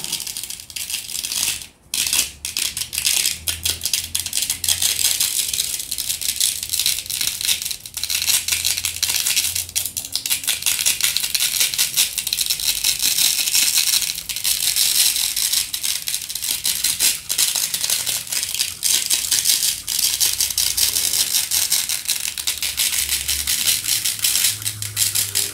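Iron filings sprinkled onto paper laid over magnets, making a steady, dense, close hiss of fine grains pattering down that keeps going for the whole stretch, with no talking.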